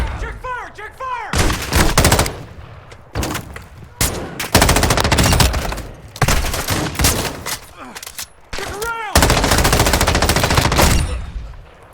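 Automatic rifle fire in Call of Duty DMZ, likely an M13B: rapid bursts of loud, close gunshots stacked back to back, with brief pauses between volleys and a game radio voice in the gaps.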